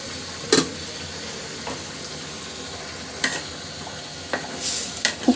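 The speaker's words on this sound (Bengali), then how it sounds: "একটু নাড়া দিয়ে দিচ্ছি" Malabar spinach and dried fish curry is stirred in a pan, giving a few scattered scrapes and soft clicks over a low, steady simmer, with no talking.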